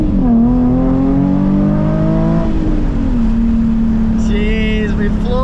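Nissan 350Z floored from a green light, its engine note climbing in rising harmonics through the revs, then settling into a steady drone as it shifts and keeps pulling, loud and close.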